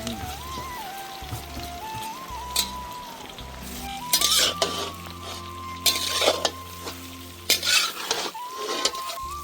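Green chillies and taro leaves stirred in a hot, sizzling pan, a steady fry hiss under repeated scraping strokes of a spoon and clinks against the pan, with background music throughout and no talk.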